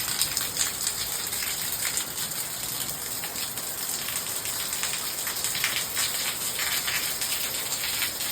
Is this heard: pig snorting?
no